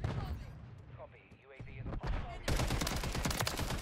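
Rapid automatic gunfire from a weapon in Warzone, loud and close, a dense burst of shots filling the last second and a half after quieter game sounds.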